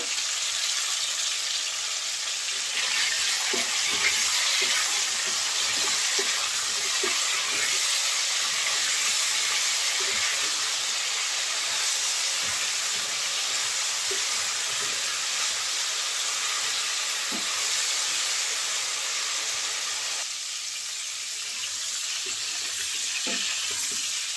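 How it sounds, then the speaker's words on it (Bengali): Potatoes and cauliflower pieces frying in hot oil for a beef curry make a steady, broad sizzle with scattered crackles and small pops throughout, close and continuous, with no talking. "আলু ফুলকপি আমি হালকা করে ভেজে নিয়েছি এখন তেল থেকে তুলে নেব"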